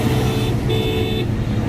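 Skoda Kushaq car horn honked with a window open, two short toots with a brief gap between them, heard from inside over a steady low rumble.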